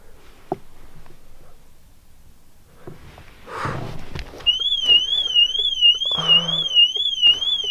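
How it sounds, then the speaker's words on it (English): A car alarm goes off with a loud, rapidly warbling electronic siren that rises and falls in a steady repeating pattern. Some rustling and movement come just before it starts. "The car alarm just went off."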